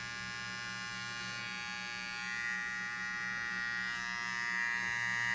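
A rechargeable electric body and hair trimmer buzzes steadily and quietly, a constant motor hum with no pauses.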